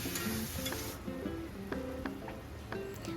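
Spice paste and garlic fry in hot oil for chicken kosha, a steady close sizzle broken by repeated scraping stir strokes with a spatula in a pan.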